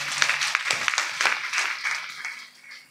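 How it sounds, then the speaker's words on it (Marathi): Scattered audience clapping at a Marathi kirtan in Sandas, bursts of uneven claps thinning and fading over a few seconds, moderately loud with no talk over it. "एकदा सगळ्यांनी त्यांच्याबद्दल टाळ्या वाजवायच्या."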